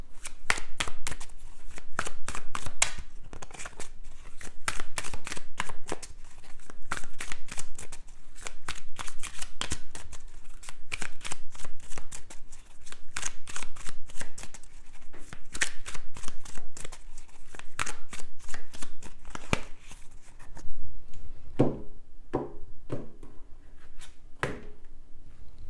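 Tarot cards shuffled briskly and loudly close by, a rapid run of crisp flicking card edges that slows toward the end into a few separate taps and slaps, with no talking.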